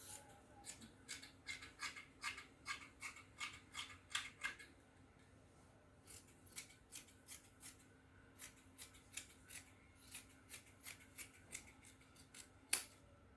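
Scissors snip steadily through fabric in a quick, regular rhythm of crisp cuts, close up, with a short pause midway and no talking.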